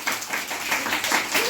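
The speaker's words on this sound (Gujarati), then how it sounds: "ચાલો બાળકો તાળી પાડો બધાય" Children at a birthday celebration in an anganwadi clap together in a brief burst of uneven, overlapping claps, moderately loud and close.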